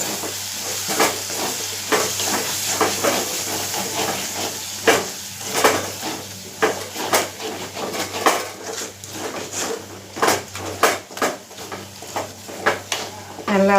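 Masala with turmeric powder sautéing in a pan, a steady close sizzle and hiss with repeated scraping and stirring strokes against the pan throughout.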